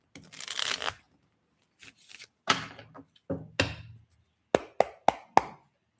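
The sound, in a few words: shuffling a deck of tarot cards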